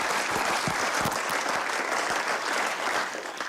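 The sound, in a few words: audience applause at a press conference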